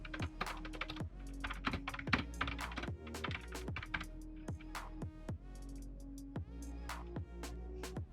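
Rapid typing on a laptop keyboard, close and clear, with steady clusters of crisp key clicks and occasional heavier thumps, no voices.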